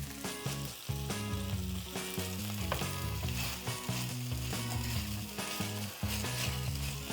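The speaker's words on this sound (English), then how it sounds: "When you stir fry kimchi, be careful of the oil, dangerous." Kimchi stir-fries in oil, a dense, constant sizzle close by with rhythmic stirring and scraping in the pan, loud and alone without talking.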